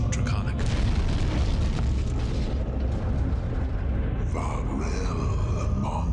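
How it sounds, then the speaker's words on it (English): A deep, resonating bellow from immense stone dragon heads in a game cutscene. It is a continuous heavy low rumble that swells and holds, with a voice speaking over part of it. "A deep, resonating bellow erupts from the immense dragon heads made of stone"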